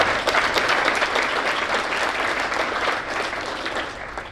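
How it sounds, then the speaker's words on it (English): Steady, full applause from a gathered crowd at a general membership meeting, continuous dense clapping that holds for the whole stretch with only a slight easing toward the end. "One more round of applause for Dennis."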